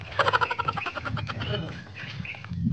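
A flock of ducks calling together outdoors, rapid overlapping quacks most dense at the start and then softening into a steady chatter, with faint talk and background noise underneath.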